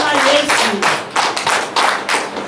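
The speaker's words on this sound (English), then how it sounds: "Clap for Jesus, somebody." A church congregation claps during a sermon, with loud rhythmic bursts of clapping pulsing about every half second, filling the short moment.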